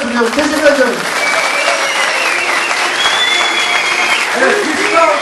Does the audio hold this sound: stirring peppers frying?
no